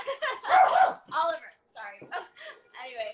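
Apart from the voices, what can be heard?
pet dog barking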